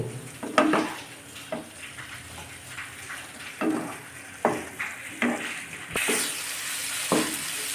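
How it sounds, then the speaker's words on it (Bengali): A spatula stirs fried pointed gourd through spice masala in a pan, each turn bringing a scrape and a sizzle burst in an irregular rhythm over a soft frying hiss, close by. "এবার ভালোভাবে নাড়াচাড়া করে নিব।"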